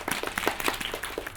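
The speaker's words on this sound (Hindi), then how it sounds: "इसके लिए एक बार फिर से तालियां बजाएंगे हम सब लोग।" A small audience claps for children performing a poem at an Independence Day event, giving brief, light, scattered applause heard faintly over a short stretch.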